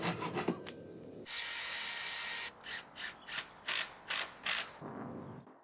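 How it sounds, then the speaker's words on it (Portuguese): A diagonal piece of wood is cut with a handsaw while building a cat playground. Rhythmic rasping strokes come close and fairly loud, first a long continuous pull and then about six short, evenly spaced strokes, with no talk. "Só preciso cortar esta madeira diagonal para encaixar no canto."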